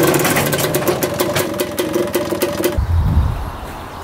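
A rebuilt two-stroke race quad engine runs close by with a buzzy, steady drone for a few seconds, then drops away into a lower rumbling tone.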